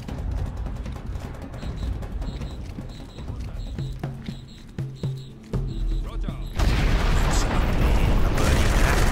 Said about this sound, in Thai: ระเบิดอีกนะ